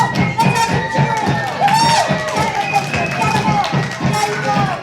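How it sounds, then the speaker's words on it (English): Children cheer and shout together in a lively, continuous burst of excited voices, with adults talking over the noise. "Let's have some cheering!"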